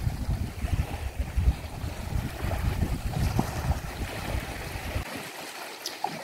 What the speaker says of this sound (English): This is Portobello Beach in Edinburgh